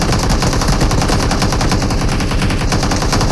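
Rapid automatic gunfire in the mobile game PUBG Mobile, a dense, loud, unbroken rattle of shots filling the whole stretch with no talk over it.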